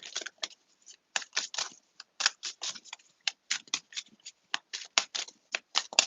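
Psychic Tarot and Wisdom Oracle cards being shuffled by hand, a quick irregular patter of crisp riffling bursts, close and fairly quiet, with no talking.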